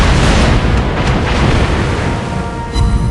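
Destroyer guns firing in a naval warship game, loud booming blasts layered over a continuous roar, with a fresh burst near the end.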